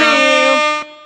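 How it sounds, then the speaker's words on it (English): Air horn sound effect, one loud, bright, sustained blast with rich harmonics that drops off sharply just before the end and leaves a brief tail. "you get some air horn, party noise"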